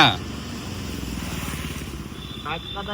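A Yamaha RX motorcycle, freshly repainted, runs close by with a steady, loud two-stroke engine drone that stays even throughout, with a faint voice under it.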